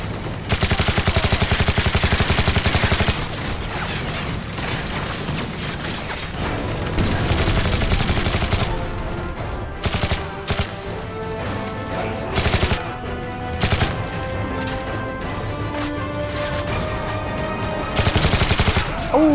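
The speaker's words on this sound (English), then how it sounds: "I'm loving this AK right now." An AK rifle fires in sustained automatic bursts in Call of Duty: Modern Warfare 3, loud sharp cracks with short pauses between volleys and background battle noise.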